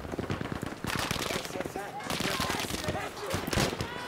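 Rapid automatic gunfire in Battlefield V, bursts of loud close shots rattling almost continuously across the clip, with voices chattering underneath.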